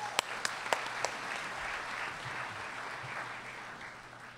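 Church audience applauding a woman coming up to give her testimony, a steady wash of mid-distance clapping with a few sharp individual claps standing out at the start, no talking over it.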